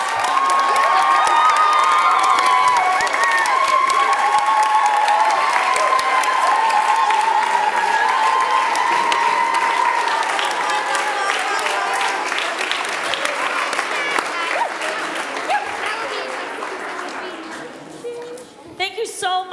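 Audience applause and cheering for children finishing their final show, a dense sustained clapping wash with some whoops that gradually thins toward the end, loud and close.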